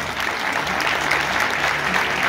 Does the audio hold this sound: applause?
yes